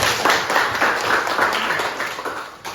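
Brief burst of classroom applause from students during a discussion lesson, quick overlapping claps that fade slightly toward the end.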